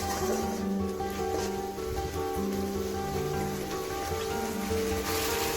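Spiced masala frying (kosha) in a pan with a splash of water for a vegetarian aloo paneer dish, giving off a steady, close, continuous sizzle with no voices.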